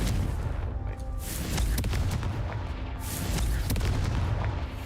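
The Confringo explosive spell in a video game fires off a series of booming blasts and sharp cracks, loud and dense, carrying through the whole stretch with no talking.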